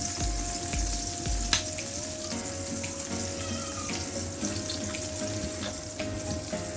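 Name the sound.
salted egg yolk cooking in pan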